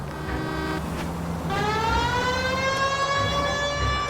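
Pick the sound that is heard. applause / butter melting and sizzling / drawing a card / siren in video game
siren in video game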